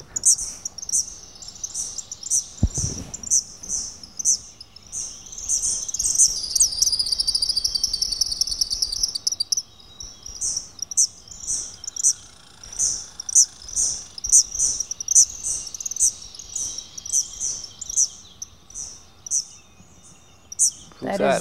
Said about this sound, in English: That is the king of the birds, Tyrannus tyrannus.